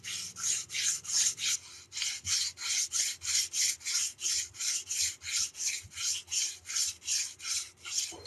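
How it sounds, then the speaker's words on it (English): Metal is filed by hand while forging a spear, a close rasping file stroked back and forth in a steady rhythm, about twenty even strokes in a row with no talking. "he's hand forging a spear."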